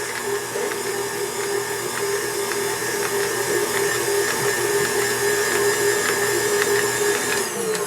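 An electric mixer whirs steadily for several seconds while whisking pumpkin roll filling, a continuous close motor drone with faint rattling from the beaters and no talking.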